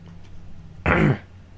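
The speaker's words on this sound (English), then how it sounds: "Sorry, just clear my throat here." A single short, harsh throat clearing lasting about a third of a second, close and fairly loud, set against a quiet room hum with no talking.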